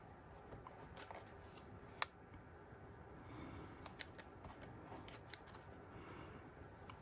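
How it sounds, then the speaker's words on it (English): Small snips cut the stems off punched paper leaves in a quiet crafting session, several faint crisp snips scattered across a soft background rustle. "I'm gonna snip off the ends of my leaves"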